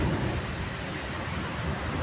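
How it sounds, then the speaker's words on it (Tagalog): Heavy rain pours in a constant dense hiss with a low rumbling undertone suggesting thunder, steady and fairly close throughout. "Malakas po ulan mga idol."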